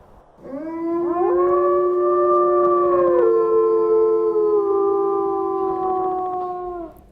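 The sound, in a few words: wolf howling in video game WolfQuest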